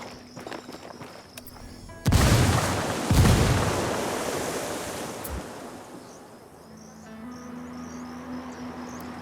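A grenade goes off in the video game Ghost Recon Wildlands as a sudden loud blast with a second burst right after, then a long rumbling fade over steady insect-like ambience.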